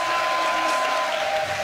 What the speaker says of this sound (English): the crowd get pumped